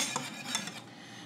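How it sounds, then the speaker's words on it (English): A utensil scrapes and clinks around a pan of thick sugar glaze, with a couple of sharper taps early on before the stirring settles into a soft, close, continuous swish. "you just want to keep stirring this"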